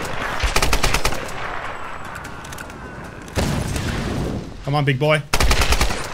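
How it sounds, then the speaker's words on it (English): Enemy gunfire in the video game Tomb Raider Definitive Edition on PS5, loud rapid machine-gun bursts and single shots crackling in the foreground while someone speaks briefly over the firefight. "he just started shooting me from the opposite angle"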